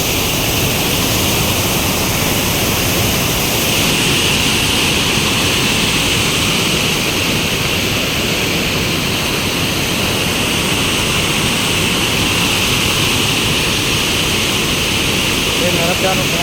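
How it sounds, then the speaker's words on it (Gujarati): Narmada canal water gushing out of a pipe into Dantiwada dam, a loud, dense, unbroken roar of rushing water close by that holds steady for the whole stretch. "એ નર્મદાનું પાણી ચાલુ છે."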